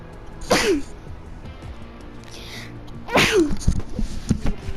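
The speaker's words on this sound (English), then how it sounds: "Sorry guys, I just need to sneeze." Two sharp sneezes, about three seconds apart, close to the listener, with quiet background between them.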